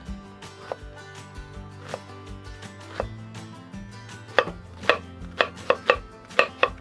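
A sharp knife chops celery, bell peppers and onions on a cutting board, a series of crisp close thuds that quicken into a steady rhythm toward the end, with soft music underneath.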